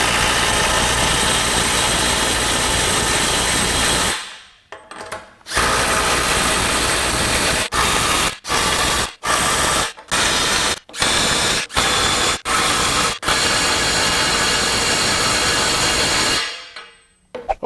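DeWalt DCF890 compact impact wrench driving bolts, loud sustained buzzing hammer bursts broken by a run of short rhythmic pauses between quick hits, close up and with no one speaking.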